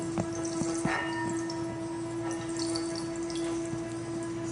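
A finger rubbed around the rim of a liquid-filled metal vessel, breaking the surface and ejecting drops, gives a steady sustained singing tone throughout, with faint dripping and splashing ticks over it.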